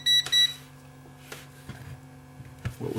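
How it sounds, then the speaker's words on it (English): Two short, high electronic beeps sound from a disassembled power bank with cylindrical cells, followed by a faint hum and small clicks in a quiet room. "What was beeping there?"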